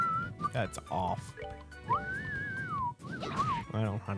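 A person whistles a few wavering, sliding notes between bursts of other sound, fairly close and loud, with no clear speech in the gaps.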